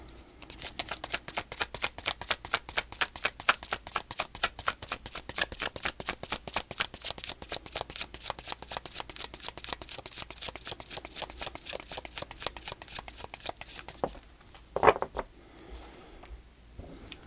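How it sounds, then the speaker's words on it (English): Rapid, steady riffling of tarot cards being shuffled, a long run of crisp flutters with a brief pause and a louder shuffle near the end. "that way you don't have to hear the cards shuffling"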